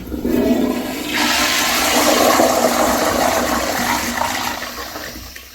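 A Crane Placidus 1.6 gallon wall-mounted toilet flushes loudly and close by, a brief click followed by a sustained rushing gush of water that slowly tapers off.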